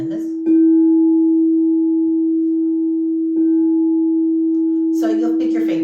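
A frosted crystal singing bowl struck softly with a felt mallet, ringing with a pure sustained tone that fades slowly; a second strike renews the ring, then rustling handling noise follows.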